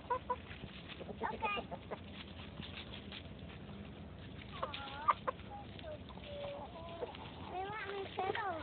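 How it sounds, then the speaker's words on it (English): Chickens cluck in a loose, irregular series outdoors, moderately close, with sharper bird calls rising around the middle and the end, while a person talks in the background. "try to pet them chickens over behind you"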